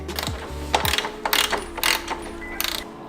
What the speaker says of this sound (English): I'm gonna take a 17 now on the backside nut, so that'd be the right side of the bike, and then a 15 socket,